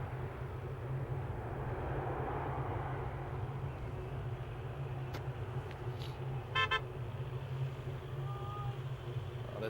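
A car horn gives a brief burst of quick toots landside at Amsterdam Schiphol airport near runway 18 Left, fairly distant and partly masked by a steady broad rumble of wind and airport noise.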